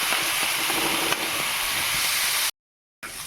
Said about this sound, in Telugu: ఉల్లిపాయ సాఫ్ట్గా అయిందాక ఫ్రై చేసుకోవాలండి.